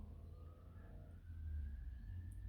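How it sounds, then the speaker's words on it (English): Emergency vehicle sirens wail on a nearby road, a faint rising and falling tone over a steady low rumble of traffic that grows louder as they approach. "Sirens going off."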